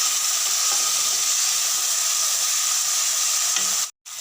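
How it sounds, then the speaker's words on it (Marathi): Tomato and onion fry in hot oil for a misal, giving a steady, loud, dense sizzle with no break until a sudden cut to near silence at the very end; no voices. "गरम तेलात घालूया टोमॅटो कांदा आणि हे छान फ्राय करून घेऊया"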